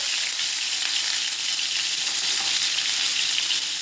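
Chicken fillet sizzles loudly in a hot pan, a dense, steady crackling hiss that continues without pause.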